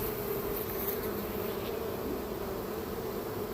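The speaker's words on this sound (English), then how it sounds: "Oh, not a bad little swarm." A honey bee swarm in a tote swarm trap gives a dense, continuous buzzing hum, close and steady for the whole short stretch with no voices.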